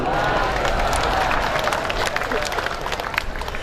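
An audience claps for the Muhammadiyah Central Java regional leader at a sholawat gathering, a broad wash of applause under crowd noise and overlapping voices, easing slightly toward the end.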